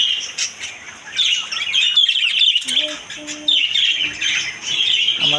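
Pet birds in a flooded bird house, a dense chorus of shrill chirps and squawks overlapping continuously, close and loud, with faint whistling calls woven in.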